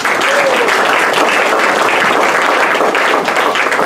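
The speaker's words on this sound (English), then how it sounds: "give her a huge round of applause." Loud, close applause from a magic show audience greeting a volunteer on stage, a thick continuous roar of clapping hands sustained at even intensity from start to finish.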